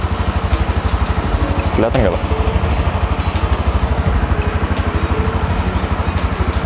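A Honda CT125 motorcycle engine idles with a steady, fast, even putter close by, while someone speaks briefly over it.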